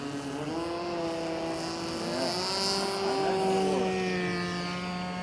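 A radio-controlled P-38 model airplane with twin propeller engines, flying at no more than half throttle and giving a steady droning buzz with shifting harmonic tones as it passes at moderate distance.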